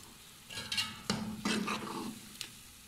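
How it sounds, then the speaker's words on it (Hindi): Chicken with masala fries in a pot for biryani while a utensil stirs it, giving a few soft scraping strokes over a quiet sizzle. "गोश्त उसको हम भून रहे हैं चिकन को"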